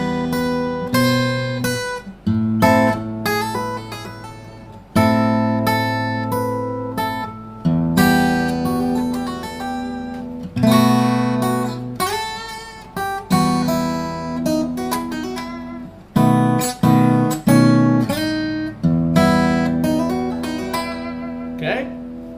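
Fingerstyle acoustic guitar plays Hungarian Dance No. 5, a steady melodic line over chords with short pauses between phrases, close and clear with no talking.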